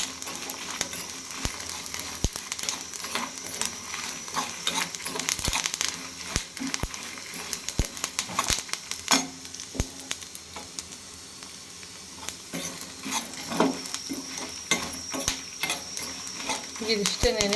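Ingredients stirred in hot oil in a pan for idli sambar spice mix, a steady close scraping and rustling with faint sizzle and occasional sharp utensil clicks throughout, no speech over it.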